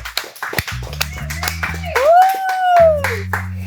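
Sharp hand claps from people in a studio, several loud, close claps in a loose rhythm, heard alongside voices and some sung or spoken tones.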